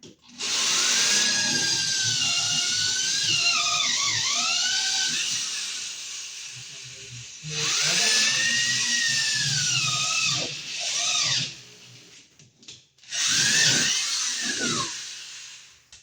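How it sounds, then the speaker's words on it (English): Power drill boring a hole through a wall to fish wiring for a ceiling light, heard as three sustained whining bursts with rising and falling pitch, separated by short pauses, loud and close. "So we'll drill through here."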